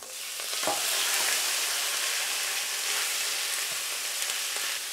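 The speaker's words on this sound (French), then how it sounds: "un sautoir bien chaud, on y va, on y met de l'huile d'olive, un beau morceau de beurre, et on y ajoute les parures" Veal trimmings sizzle steadily in olive oil and butter in a hot sauté pan, a loud continuous frying hiss with a brief stirring clatter near the start and no talking.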